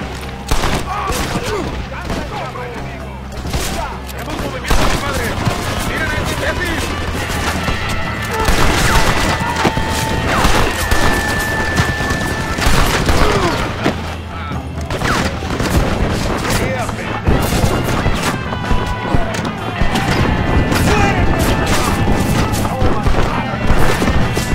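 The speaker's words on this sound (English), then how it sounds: "They have a machine gun!" Machine gun fire rattles almost continuously through a shootout at the Allende mansion in Red Dead Redemption, with bursts of gunfire, booms and crashes layered over shouting voices.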